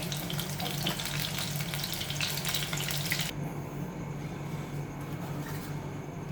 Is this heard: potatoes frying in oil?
yes